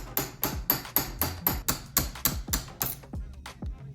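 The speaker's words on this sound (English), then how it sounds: "I would hammer it" A hammer strikes a metal pin on a 1994 Corvette C4 headlight assembly about a dozen times in a steady, even rhythm, close by and moderately loud.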